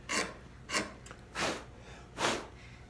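A hand chisel scraping waste wood from dovetail corners on a drawer, four short rasping strokes spaced about half a second apart, close and fairly quiet with no talk.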